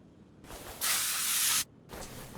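WD-40 spray can in the Car Mechanic Simulator 2021 video game: a short hiss, then a loud steady spray burst of about a second that cuts off sharply, followed by a softer trailing hiss, with no talking.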